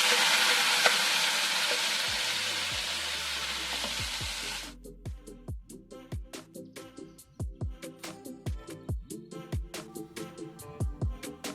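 Boiled mutton dropped into hot oil with cinnamon, cloves, cardamom and cumin for an Andhra-style mutton curry: a loud, steady sizzle at first, which then quiets as a spoon scrapes and stirs the pan in a regular knocking rhythm, with no one talking.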